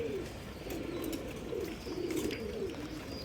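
Domestic pigeons at a home loft, with a female arriving, give soft repeated low cooing throughout, fairly close and quiet, with faint background rustles and chirps.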